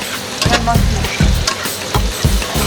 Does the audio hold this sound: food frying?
yes